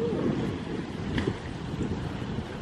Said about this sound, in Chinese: 喺度好大风，我都唔知点。